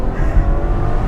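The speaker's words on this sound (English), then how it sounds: "let me just give you guys some more of this exhaust note" A Ferrari FF's 6.3-liter V12 rumbles through an X-pipe exhaust with the muffler deleted, a loud, close, deep sustained drone over the brief moment.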